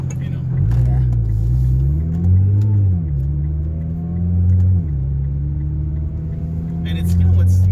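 A Nissan GT-R R35 drives through town, its engine a steady low rumble that rises and falls gently with light throttle changes, heard from inside the car.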